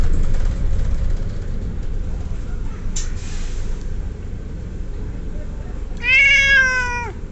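A cat meows in a carrier bag on a bus, one drawn-out, wavering meow rising clearly near the end over steady bus engine rumble and faint background voices.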